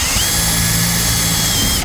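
A power drill whines steadily and loudly as it bores into metal, a continuous high grinding tone with no voices.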